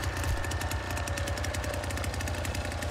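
A chainsaw in the Texas Chain Saw Massacre video game runs with a steady, rapid rattling engine chug, a constant pulsing drone held at moderate volume throughout.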